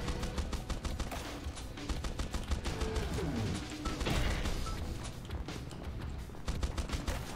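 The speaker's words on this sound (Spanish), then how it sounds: "Gatling gun, perfecto." A Gatling gun fires in the video game Swarm Grinder, a dense rapid burst of shots rattling steadily throughout, loud and close with impact crashes mixed in.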